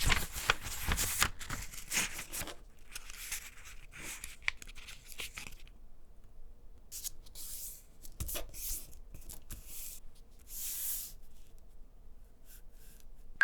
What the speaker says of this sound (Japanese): 黒の線で半分に折ります。